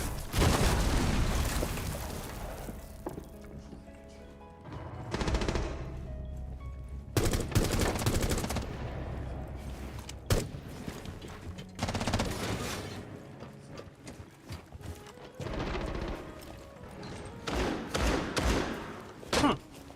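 Shotgun blasts in a video game fire as a string of loud, sharp bursts across the stretch, some close together and others spaced apart, with rumbling low booms and a few quieter gaps between volleys.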